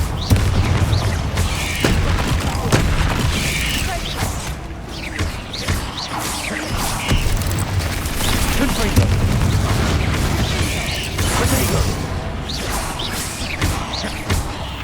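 A Confringo fire-blast spell in Hogwarts Legacy sets off booming impacts and crashes amid busy combat noise, with a voice heard over the loud, continuous fight.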